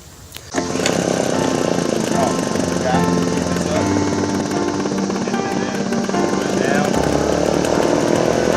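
Craftsman 46cc gas backpack leaf blower fires up after a short pull and settles into a loud, continuous two-stroke engine roar with a rough buzzing drone and rushing air, close by and steady for about eight seconds.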